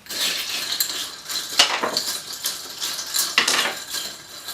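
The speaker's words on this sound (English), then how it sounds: "I'm going to go ahead and stir this one." Ice cubes clink and rattle against a glass as a cocktail without juice is stirred, a fast, close, continuous jangle with brighter knocks every second or so.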